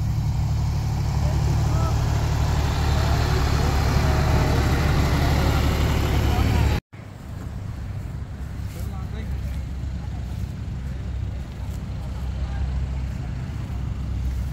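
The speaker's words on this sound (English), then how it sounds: "Hi, tractor!" A tractor engine runs on a farm in Khao Yai, Thailand, a heavy low rumble that cuts off abruptly partway through and resumes more quietly, with voices present over it.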